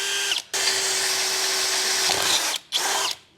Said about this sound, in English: Drill them out a whole size bigger.